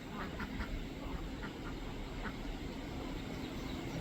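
Ducks on a homestead quack in a few quick nasal bursts over a steady noisy background, fairly faint and heard without talk.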